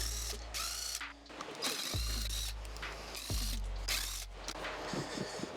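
A ratchet wrench working the castle nut off a wheel hub on a Raptor 700R quad, with several close bursts of rapid clicking strokes and no talk.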